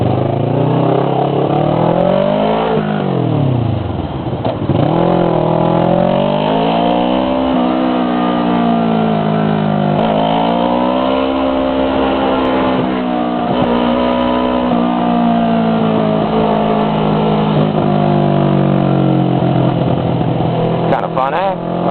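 Rush hour traffic surrounds a motorbike rider: engines rise and fall as they rev and shift, loud and close throughout, with someone talking over the noise.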